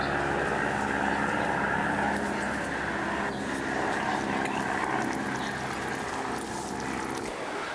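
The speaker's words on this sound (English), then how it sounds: "if you can listen off in the distance, you'll hear an airplane" A distant airplane drones in a low, continuous hum with slight swells, heard faintly beneath soft room or outdoor ambience.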